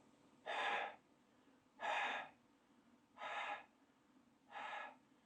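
Four slow, steady exhalations blown into a fitted face mask during a seal check for air leaks, each breath a soft, close rush of air of about a third of a second, evenly spaced over a quiet background.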